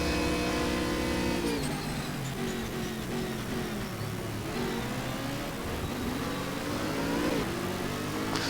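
GT3 race car engine in Stock Car Extreme at the Red Bull Ring, a loud continuous roar that rises and falls through downshifts and revs as gears change, with no talk.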